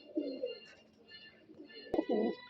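Pigeons for sale coo softly in a close, repeated rhythm, several low rolling coos with a brief sharp click or knock in between.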